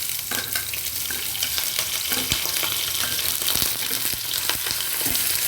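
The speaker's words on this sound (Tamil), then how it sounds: "இப்போ பாருங்கள், ஓரளவுக்கு வதங்கிடுச்சு. வெங்காயம், கருவேப்பிலை போட்டுக்கிறேன்." Onion and curry leaves fry in a pan with a dense, loud, steady sizzle up close, punctuated by a handful of sharp spatula taps and stirring scrapes.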